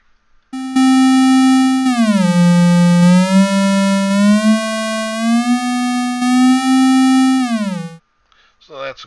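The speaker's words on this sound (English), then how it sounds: "So that's a combination of this sine wave here." A synthesizer sine wave tone built in Pure Data holds one long pure note that glides down, steadies and drifts back up before cutting off, loud and alone, followed by a brief trailing sound.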